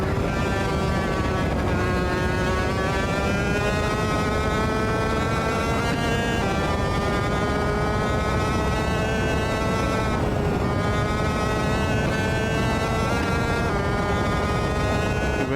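A racing kart engine in Automobilista 2 drones loudly and continuously, its pitch climbing and dipping slightly as the kart holds speed, with no talking over it.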